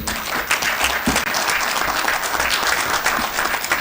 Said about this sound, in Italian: meritano un applauso